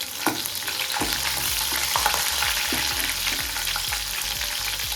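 Garlic and green chilies fry in hot oil in a pan, a dense continuous sizzle with regular scraping stirs and light thuds throughout, close and steady.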